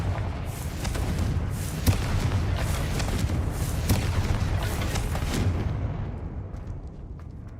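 A Confringo fire spell blasting in Hogwarts Legacy, a dense roaring burst of rumbling booms and crackling impacts that holds loud for several seconds, then thins and fades.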